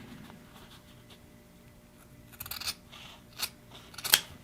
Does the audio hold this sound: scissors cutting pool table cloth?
yes